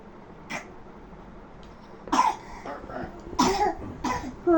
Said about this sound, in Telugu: మళ్ళీ దగ్గు